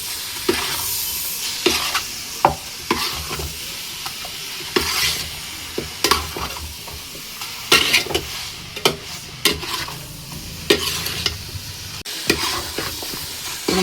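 Beef biryani with coriander leaves is stirred and mixed in a pot, giving repeated scraping and clinking strokes in an uneven rhythm over a soft sizzle, close and fairly loud, with no talking.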